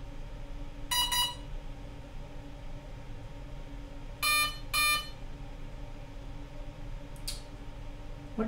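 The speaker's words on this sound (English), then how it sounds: "What do these beeps mean?" A freshly assembled RC plane's ESC sounds a few short electronic beep tones: one burst near the start, two close together in the middle and a brief faint one near the end, over a steady low background hum.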